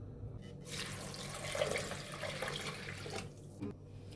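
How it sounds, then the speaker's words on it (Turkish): Boiling water pours from a container onto lentils for soup, a steady close splashing and gurgling stream that builds and then cuts off near the end, with no talking. "Buraya kaynar su ekledim. Mercimeğin üzerine ekliyorum."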